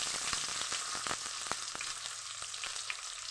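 Onions sizzle in hot oil for a bitter gourd fry: a dense, continuous hiss with scattered small pops and crackles, close and steady throughout.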